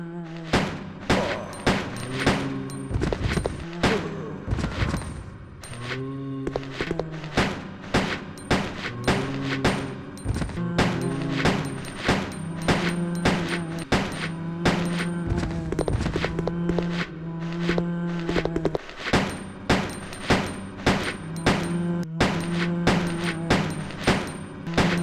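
Pistol shots ring out at zombies in Resident Evil Code: Veronica X, a steady series of sharp, loud single reports spaced a second or so apart over a droning ambient hum, with no voices.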